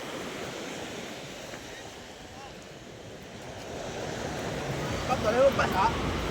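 Steady rushing ocean surf with wind across the microphone, a continuous wash of waves that swells slightly near the end.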